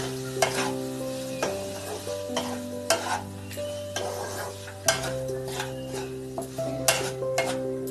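Paneer butter masala is stirred in a pan close by: a spoon scrapes and clinks in irregular strokes over a steady sizzle, and a low tonal hum sits underneath.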